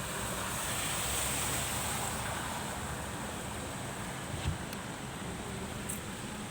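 Continuous rushing water noise, broad and steady like floodwater pouring over a road, with wind buffeting the microphone and no voices.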